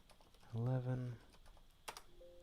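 A computer keyboard gives a few faint, scattered keystroke clicks in a quiet room, preceded by a brief voiced hum.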